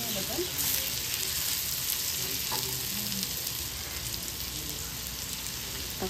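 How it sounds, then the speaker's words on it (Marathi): Capsicum and tomatoes sauté in a pan with a constant even hiss of frying, fairly soft and steady throughout, with faint clinks near the start. "शिमला मिरची पण परतून घेऊया थोडी।"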